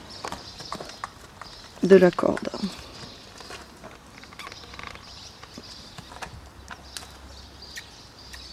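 Horse hooves step on the ground during groundwork training with a rope, soft scattered thuds including a louder cluster of steps, under continuous French speech.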